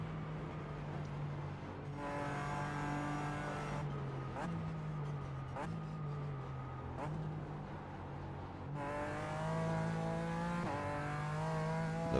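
A GT4 race car at the Nürburgring on cold tires, its engine held on throttle with harmonic revs climbing and dropping through gear changes, a brief tire squeal, loud and close under a man's speech.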